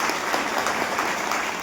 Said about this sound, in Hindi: दोस्ती के नाम पर एक बार फिर से जोरदार ताली बजानी पड़ेगी